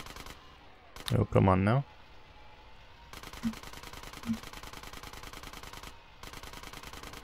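Machine-gun fire during a drive-by in Grand Theft Auto: San Andreas rattles as steady, rapid popping in the background. Someone speaks briefly early on, and the shooting continues with a couple of louder hits.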